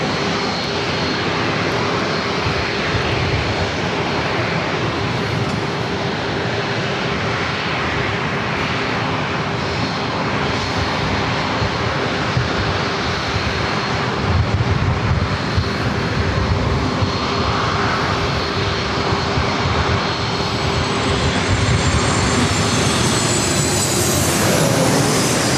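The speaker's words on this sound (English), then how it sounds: "Followed by Southwest Airlines flight 2480 coming in from San Jose, California, the 737 MAX 8." Boeing 737 MAX 8 airliner arriving at San Diego airport, a long sustained jet roar that swells and rumbles as it passes nearby, with rising high whine near the end and no voices.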